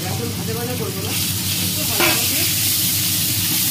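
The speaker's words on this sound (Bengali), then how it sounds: "এই চিকেনটা একটু নাড়িয়ে চাড়িয়ে দেবো" Chicken pieces sizzle in a pan while being stirred for a momo recipe, a close, loud hissing fry that swells with a burst of spatter midway and keeps crackling to the end.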